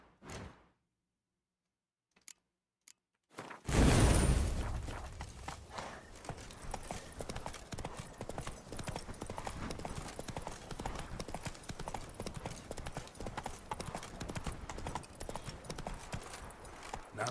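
Roach the horse trotting in The Witcher 3, a close, steady clip-clop of hooves that starts suddenly after a few sharp knocks and a near-silent opening, then keeps an even rhythm to the end.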